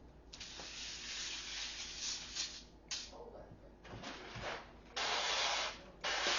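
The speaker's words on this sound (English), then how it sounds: "I'm just getting more of the spray" Cooking spray hisses from an aerosol can onto a baking sheet in a home kitchen, several close, loud bursts of varying length separated by short pauses.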